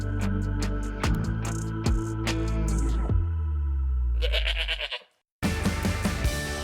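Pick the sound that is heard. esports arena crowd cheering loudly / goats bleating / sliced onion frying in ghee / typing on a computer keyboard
goats bleating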